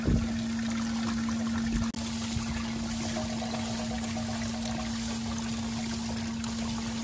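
Steady rushing water runs through a gold sluice outdoors, a continuous close wash of flow with a strong steady pump-like hum beneath it and a brief dip in level near the start.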